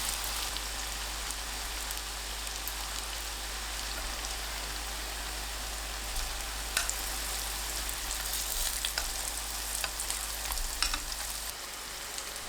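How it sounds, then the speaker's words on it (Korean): Round zucchini cutlets deep-fry in preheated cooking oil over medium to medium-high heat, giving a continuous soft crackling hiss like light rain, steady and fairly quiet with occasional sharper pops near the end. "식용유를 예열하고 중불에서 중강불로 둥근 호박가스를 튀겨주세요."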